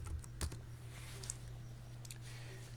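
A short burst of computer keyboard typing, a handful of light clicking keystrokes with low hum underneath, quiet and close, no talk.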